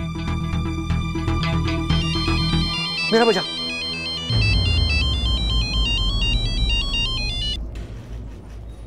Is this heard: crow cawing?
no